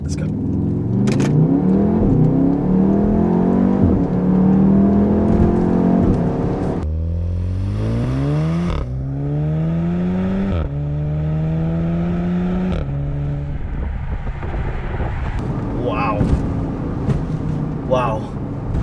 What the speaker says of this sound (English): let's just hear the engine noise with the shifting